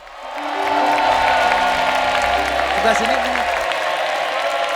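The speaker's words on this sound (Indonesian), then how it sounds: "tepuk tangan sekali lagi" Studio audience at a talent show applauds and cheers, a dense, sustained wash of clapping with whoops rising under a host's brief speech and a low musical tone.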